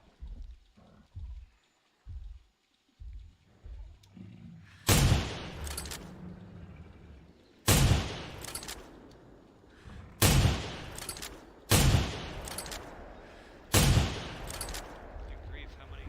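In the dinosaur-hunting video game theHunter: Primal, five loud gunshots ring out at spaced intervals, each with a rolling echo tail, after quieter thumps and clicks at the start.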